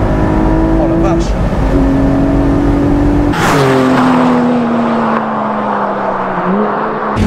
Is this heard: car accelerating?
yes